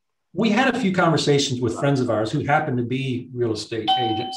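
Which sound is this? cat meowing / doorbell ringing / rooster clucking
doorbell ringing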